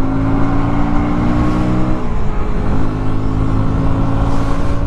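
A 2025 KTM Duke 160 motorcycle engine drones steadily and loudly while riding, with a slight dip and recovery midway as it pulls on; wind rush is blended in and no one speaks.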